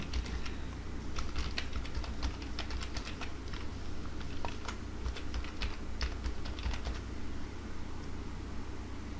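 Rapid, irregular keystrokes on a computer keyboard as an email address is typed into a PayPal business account sign-up form, close and clear over a steady low hum, with no one talking.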